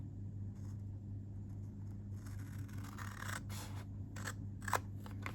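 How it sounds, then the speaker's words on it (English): Large scissors snip through cardstock while making a berry treat box, giving several quiet crisp cuts and scrapes close by over a low steady background hum. "Now I find using big scissors will help doing that cut."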